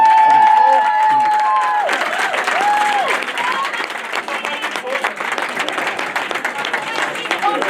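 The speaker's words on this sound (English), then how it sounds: "she deserves another round of applause because she deserves that" A football club's seniors presentation night, where a room of people breaks into sustained applause for a player with some cheering, rising after a voice trails off.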